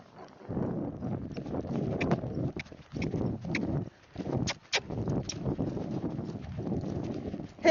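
Hooves of an Icelandic cross horse drumming a steady, rhythmic beat at close range during gait training at canter and slow rack, with brief pauses and light wind noise throughout.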